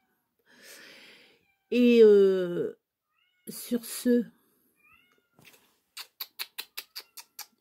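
A small cat lets out one loud, drawn-out meow close by, after a short spoken phrase, with brief softer sounds and a quick rhythmic run of clicks following.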